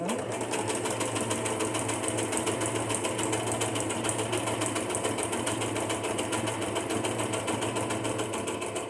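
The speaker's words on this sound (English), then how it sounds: "for decoration purposes, I think it'd be nice to have some stitching down there" A sewing machine stitches through paper for a junk journal, running as a steady, close, rapid mechanical clatter that holds an even rhythm from start to finish with no pauses.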